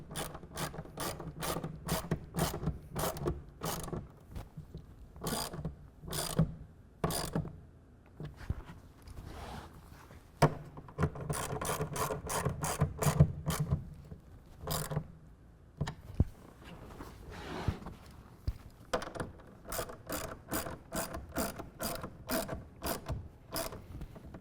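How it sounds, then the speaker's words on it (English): Ratchet clicks ring out in quick bursts as a half-inch ratchet tightens the clamps of a RealTruck UnderCover Select hard tonneau cover, with close, crisp repeated strokes separated by short pauses. "We're going to use a 1/2 inch wrench or ratchet. We're going to tighten these down to 10 foot-pounds."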